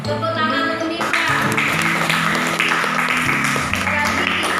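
A junior high classroom applauds a student: a short burst of clapping from many hands, close and steady for a few seconds, mixed with music and room noise.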